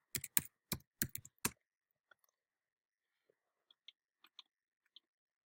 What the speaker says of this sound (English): and then I'm going to type my password.